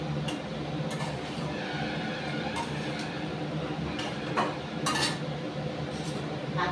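Cauliflower and potato curry stirred in a pan, with steady frying hiss and a few metallic clinks of utensil against pan.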